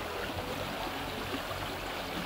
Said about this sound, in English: This is another big river.